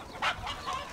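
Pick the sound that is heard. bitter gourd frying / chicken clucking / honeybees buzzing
chicken clucking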